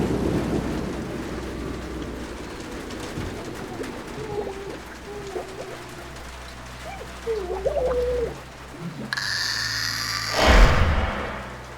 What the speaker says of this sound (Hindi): उस रात काफी जोरों से बारिश हुई